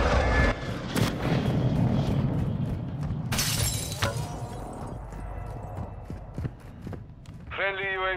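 Artillery shells from a called-in fire mission in Warzone 2 crash down as several loud, sharp blasts with crackling debris, mixed with gunfire and game noise while players talk over it.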